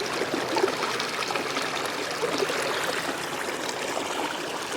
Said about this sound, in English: we're going to fill this thing up with water